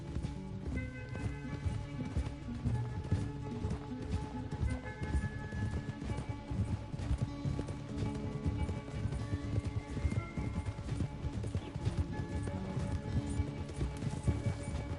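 Rapid, steady hoofbeats of a galloping horse in Red Dead Redemption 2 drum along under a busy layer of game music and effects, fairly quiet overall.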